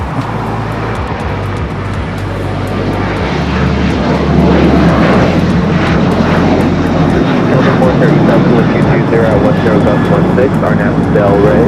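A jet airliner roars on takeoff from runway 24 left at Los Angeles International Airport, a loud sustained engine rumble that builds and holds steady, with talk audible over it.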